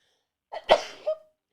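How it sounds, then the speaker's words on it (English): A single close, sharp sneeze with a short breathy lead-in and a brief nasal tail, alone in an otherwise quiet room. "I have to sneeze."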